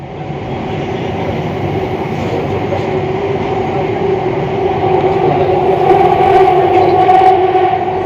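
A metro train pulls into a station with a loud, steady rumble and rising mechanical whine, swelling gradually as it draws near and slows.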